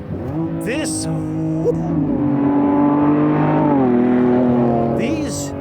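The Lamborghini Revuelto's engine revs up, a loud, near, rising growl that holds and shifts pitch for a few seconds, with someone speaking briefly at the start and end.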